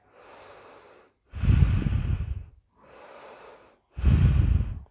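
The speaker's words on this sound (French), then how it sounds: "c'est j'inspire. J'écarte mes côtes, j'expire," Rib-cage breathing exercise: two cycles of a soft inhale followed by a louder, longer exhale through the mouth, close and rhythmic with short pauses between.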